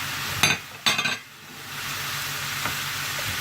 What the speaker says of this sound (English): Stir all of that in.